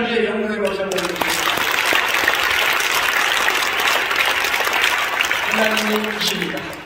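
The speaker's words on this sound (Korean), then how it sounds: "우리 하나님께 영광의 박수 한번 드립니다" A congregation at a Sunday worship service bursts into steady, full applause for several seconds, with a speaking voice briefly audible just before and after.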